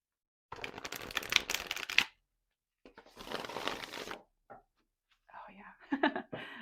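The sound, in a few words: shuffling Ink Witch tarot cards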